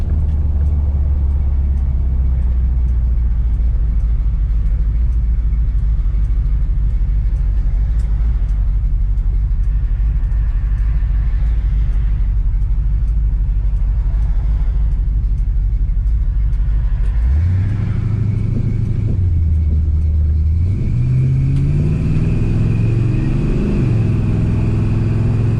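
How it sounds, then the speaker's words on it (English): A solid truck rolls along a rough, dusty road at a steady pace, its engine making a continuous low rumble. Near the end the engine note rises and falls as the truck accelerates. "Truck's definitely got a highway gear. Shouldn't have no problem getting down at about 70 mile an hour either."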